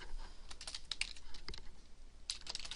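Typing text on a computer keyboard, a steady run of quick, light key clicks in irregular bursts, heard close up and fairly quiet with no talking.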